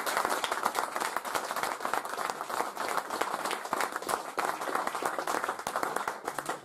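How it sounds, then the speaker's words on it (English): After a debate on British diplomacy toward Russia, the audience gives the two speakers a sustained round of applause, crisp, distinct handclaps densely layered and fairly close, continuing steadily throughout. "Give them another round of applause"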